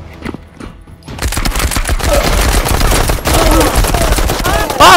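Gunfire in the shooter Space Tarkov, including shotgun blasts: after a few isolated shots, a dense, loud barrage of rapid overlapping shots and impacts runs continuously to the end.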